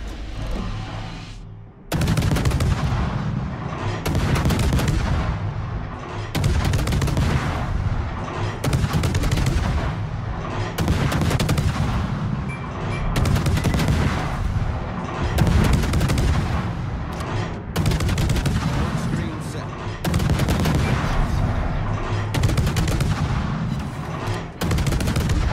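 Warship main guns in World of Warships, a Harugumo destroyer firing rapid salvo after salvo, heavy booming reports landing in a steady rhythm with little pause between them, loud and close throughout.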